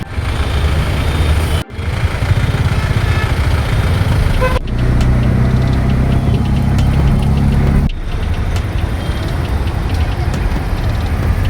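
Heavy road traffic in Bangalore, a loud continuous rumble of car and truck engines with scattered horn toots, interrupted by a few abrupt cuts.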